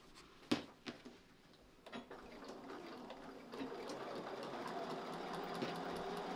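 A sewing machine stitches along the fold line of a small quilt hanging sleeve with matching thread, a few sharp clicks at first, then a steady mechanical whirr running on to the end.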